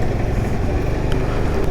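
Honda Activa scooter engine humming steadily while riding on an open highway, a continuous even drone mixed with wind rush, with no talking.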